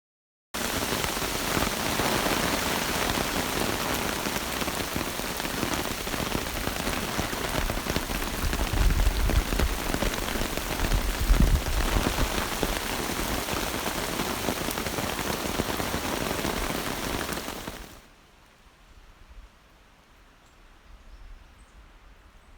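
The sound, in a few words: rain falling on a hiking trail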